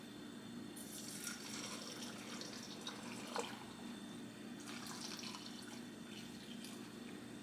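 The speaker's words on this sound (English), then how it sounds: "Now we are actually going to ladle our broth into the jars." Homemade broth is ladled into glass canning jars, giving quiet, close pouring and trickling with a few soft splashes and clinks spread across several seconds, with no talking.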